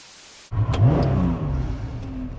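A Honda NSX sports car's engine bursts into a loud, close rev from near quiet, then settles into a steady driving drone that fades slightly. Brief high clicks sit above it, and no one speaks.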